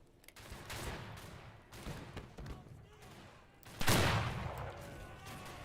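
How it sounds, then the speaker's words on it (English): Bullets and gunfire in the multiplayer Civil War game Battle Cry of Freedom: repeated crackling volleys and shots, near and far, with a louder burst toward the end. "I can hear the bullets whizzing around me"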